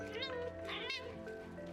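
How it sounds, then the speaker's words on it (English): A pet cat meows nearby in a drawn-out, wavering call with a second rising cry, heard over a quiet indoor background with speech present. "And that's my cat saying I should explain more."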